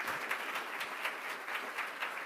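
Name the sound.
audience applause at a book event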